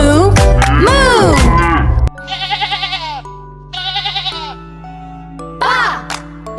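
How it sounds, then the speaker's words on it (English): Sheep bleat in quavering calls, a couple of sustained wavering bleats, clear and close, following a loud stretch of singing and music in a children's animated farm song. "The sheep says ba"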